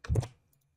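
A short cluster of close mouse or keyboard clicks while cutting UV seams on a Maya character model of Psyduck, a quick tap followed by near silence.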